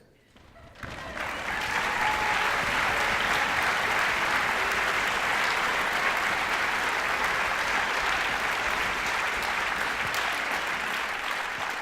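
Audience applause at a high school band May concert, starting abruptly and swelling into sustained loud clapping from a large crowd that continues steadily to the end.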